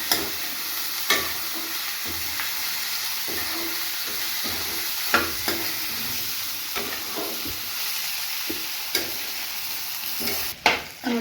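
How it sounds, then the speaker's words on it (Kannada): Cut eggplant frying in oil in a pan, a continuous loud sizzle with periodic scrapes and clinks of a spoon stirring, steady throughout with a final flurry of clattering. "ಹಾಕ್ಕೊಂಡು ಚೆನ್ನಾಗಿ ಒಂದು 5 ನಿಮಿಷ ಚೆನ್ನಾಗಿ ಫ್ರೈ ಮಾಡ್ಕೊಳ್ಳಿ"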